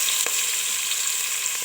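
Garlic and beef tripe fry in oil in a pan with a loud, continuous hiss of sizzling and a few faint stirring scrapes, heard close up and with no voices.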